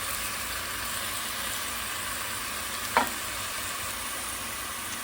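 Spices sizzling in a pan for chicken biryani, cumin and other spices frying in chicken stock with dried lime, a steady even hiss with one brief scrape of stirring partway through.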